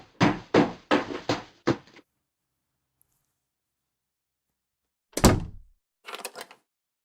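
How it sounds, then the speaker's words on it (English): Someone bangs on a door in the video game Lucy: five quick heavy thuds in a burst, then silence, followed by a single hard knock and a softer rattling hit a moment later. "he continues banging on my door for a while"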